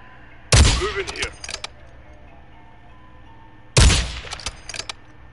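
Two short bursts of video-game gunfire from a PS4 shooter, each a sharp loud volley of rapid shots with scattered follow-up pops, separated by a few seconds of quiet background hum.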